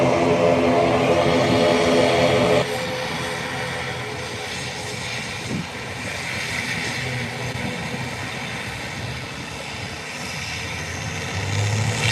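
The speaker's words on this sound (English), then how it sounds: "Those turboprops, they are apparently very efficient for the airlines, but boy, they're noisy when they take off." Loud droning turboprop airliner engines roaring steadily during takeoff at an airport, with a shift in pitch partway through and the noise swelling again at the end.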